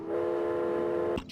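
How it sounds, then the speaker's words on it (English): Train sound effect in the game realMyst, a sustained, tonal horn-like whistle held for about a second before cutting off, alone and moderately loud. "Train."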